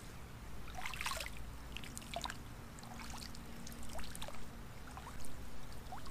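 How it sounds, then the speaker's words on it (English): Water dripping and trickling from the blade of an untreated kayak paddle lifted from the water, scattered splashy drips over a steady outdoor background, fairly faint. "Plenty of drips coming off it"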